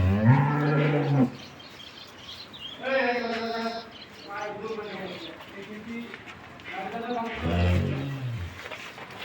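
Dairy cows mooing in a farm setting, several long low moos from near animals spaced across the stretch, with voices talking between and over the calls.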